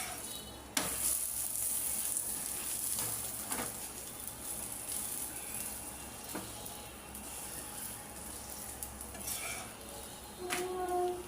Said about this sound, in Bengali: আমার পরোটাগুলো অনেক সুন্দর ভাজা হলো